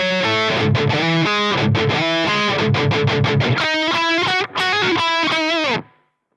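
A six-string electric guitar in standard tuning plays the pre-chorus of a song through heavy distortion, with loud, close, rhythmic palm-muted chugs and chords that ring briefly before stopping.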